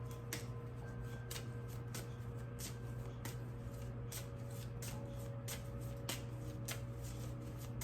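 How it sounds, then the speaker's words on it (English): Soft, repeated riffling of cards being shuffled, a steady run of brisk flutters over a low constant background hum, no talking. "I'm gonna shuffle some more cards"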